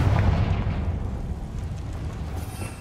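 Confringo blasting spell exploding in the Hogwarts Legacy video game: a heavy, rumbling boom that slowly decays over a few seconds, loud and close.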